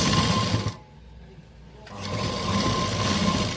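A sewing machine runs at a steady whir while stitching a V-neck school uniform, pausing briefly for about a second before starting up again, close and clear.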